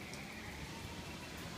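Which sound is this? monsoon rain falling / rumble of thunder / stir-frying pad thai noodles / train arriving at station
monsoon rain falling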